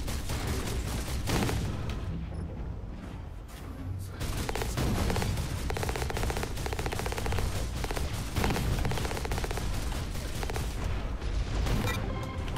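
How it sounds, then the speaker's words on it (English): Sustained gunfire from mech combat in the video game Hawken, a dense, loud stream of rapid shots and booming impacts filling the whole stretch with little pause. "Oh, there's somebody shooting me."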